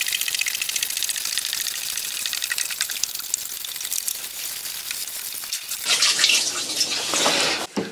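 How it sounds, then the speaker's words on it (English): Water pouring from a watering can into the tub of a small portable clothes washer in an RV, about 5 gallons in total, a steady hissing splash that shifts to a brighter, louder gush near the end, with no talking. "then we need to fill the tub"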